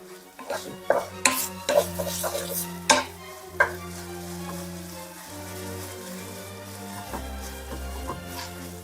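Pink rice noodles stir-fried with oyster sauce in a wok bring quick metallic scrapes and clanks early on over a light sizzle, while steady tonal music hums underneath.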